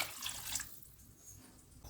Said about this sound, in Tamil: இப்போ இந்த குழம்புக்கு தேவையான அளவு தண்ணி இதில் ஆட் பண்ணிக்கலாம்